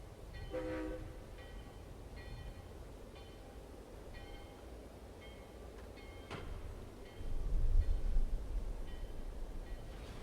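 A train in the adventure game Secret Files: Tunguska rumbles with rhythmic rail clatter and faint horn-like tones, a quiet continuous background that swells into a deeper rumble near the end, with no talk.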